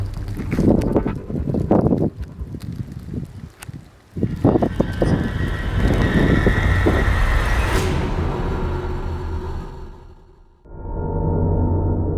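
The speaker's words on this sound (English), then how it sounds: "wind's blowing" Cold wind roars outdoors at a muddy Iowa hunting spot in freezing weather with a storm approaching, a loud, continuous buffeting rush against the microphone that eases briefly and then picks up again.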